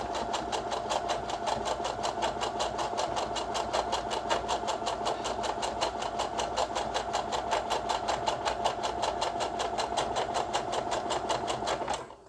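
A sewing machine runs steadily and close up, stitching a French seam at a 0.6 cm seam allowance with back tacks, giving a continuous, even mechanical whir for about twelve seconds with no talking.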